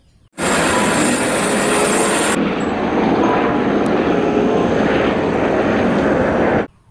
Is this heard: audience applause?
no